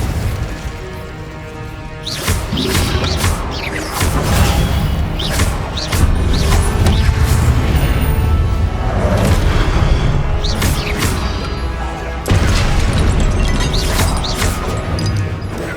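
Repeated Confringo blasting-spell explosions in Hogwarts Legacy, loud crashing booms and bursts arriving every couple of seconds over a dense, continuous din of combat noise, with no talk.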